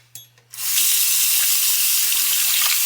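A sink tap is turned on and water gushes steadily into the basin close by, loud and unbroken after a couple of small knocks, with a faint hum underneath and no speech.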